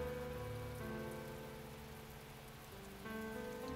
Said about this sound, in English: Couldn't we at least catch a break on this rain?